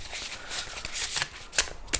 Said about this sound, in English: So we get started with a shuffle.